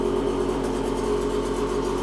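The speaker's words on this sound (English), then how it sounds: "it just fired third kick and it's idling perfectly all by itself" A two-stroke dirt bike engine idles on its own, a steady, even drone with no revving, loud and close with no voices.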